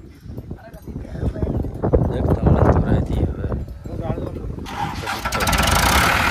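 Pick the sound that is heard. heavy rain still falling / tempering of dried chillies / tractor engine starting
tractor engine starting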